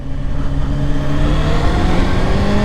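A Honda Hornet 600 motorcycle engine pulls hard after a downshift to second gear on a rainy road, rising in a steady, loud, close revving whine with strong harmonic tones over constant wind and road noise.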